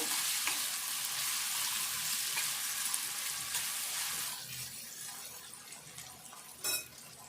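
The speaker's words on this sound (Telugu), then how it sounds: "వేసుకొని ఇది కూడా మంచిగా పచ్చి వాసన పోయేదాకా మంచిగా ఫ్రై కావాలి." Ginger garlic paste fries in a pan with a steady, dense sizzle that stays loud and close, then eases slightly partway through, with a brief stirring scrape near the end.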